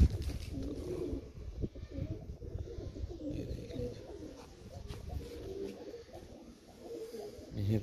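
Pigeons coo softly and repeatedly nearby, low throaty calls overlapping with light rustling and wing movement at a steady, moderate level.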